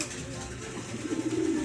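Racing pigeon cooing in a loft setting, a low murmuring coo rising near the end over a steady background hum, with faint talk nearby.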